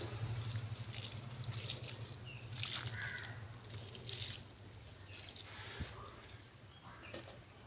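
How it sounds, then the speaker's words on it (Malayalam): Liquid fertilizer made with aloe vera is poured onto plants, a faint soft trickle and splash over a low background hum. "അപ്പോൾ നമുക്ക് ഇത് കുറച്ച് ഒഴിക്കാം"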